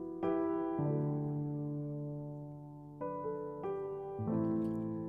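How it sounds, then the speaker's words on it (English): Mellow upright piano from Native Instruments The Gentleman, softened in tone and set in concert hall reverb, plays a slow sequence of sustained chords and notes, loud and close with a long decaying tail and no talking. "I also put it in a concert hall space to get a piano that sounds like this"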